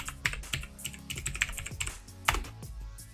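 Computer keyboard keys tapped in quick, uneven bursts while a password is entered, close and clear, with no talking.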